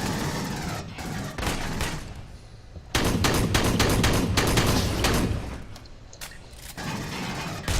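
Heavy gunfire from the Colonial Marines game, dense overlapping bursts of rapid shots that swell and ease in loudness, close and with no talking.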